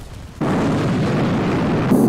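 A thermonuclear bomb detonates in the Space Engineers game, a sudden huge blast at about half a second that becomes a loud, sustained roar with crackling debris and a brief brighter burst near the end.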